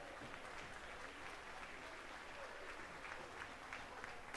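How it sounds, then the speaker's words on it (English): Faint, distant applause from spectators for heavyweight lambs at a school district livestock show, a continuous wash of clapping heard from far off without clear individual claps. "Let's give these guys a big round of applause."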